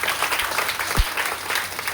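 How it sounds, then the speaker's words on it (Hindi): An audience at a product seminar claps loudly and steadily for about two seconds, a dense close patter of many hands with a single deeper thump midway. "एक बार जोरदार ताली अपने लिए लगानी चाहिए"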